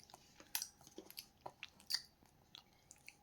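A young girl eats with a fork, giving soft, close chewing and small crunching bites in scattered bursts at low level, with no talk.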